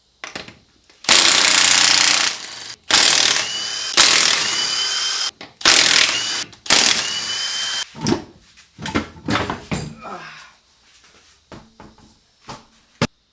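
A power tool, an impact wrench, removes a wheel from a Mercedes SLK32 AMG, with loud, close bursts of rattling hammering in several runs of one to two seconds, followed by shorter clicks and mechanical clatter.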